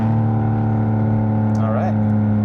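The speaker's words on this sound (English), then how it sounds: "I'm going to do one last pull, but I want to get through the gears a little bit." A BMW M4 xDrive Competition with an E40 tune, catless setup and FI exhaust pulls hard through the gears, its steady engine drone holding loud and close throughout, with a brief shift-like warble near the end and no talk over it.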